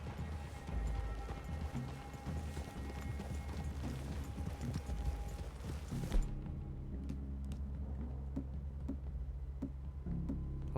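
Horses walk across a forest clearing in the video game Red Dead Redemption 2, their hooves clip-clopping in an uneven steady rhythm close by over quiet ambient background, with an occasional snort.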